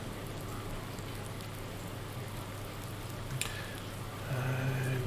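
Rain falls steadily in Farming Simulator 19, a soft, even hiss of drops on surfaces running throughout at moderate level, with a faint low hum swelling near the end.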